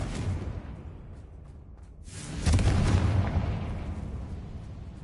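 A Confringo fire spell in Hogwarts Legacy sets off a heavy rumbling boom over a low background din, swelling midway into a stronger blast that slowly fades, with no voices.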